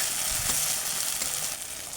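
Spice paste with tomato frying in oil in a pan, a steady close sizzle with light stirring scrapes, continuous for two seconds with no voices.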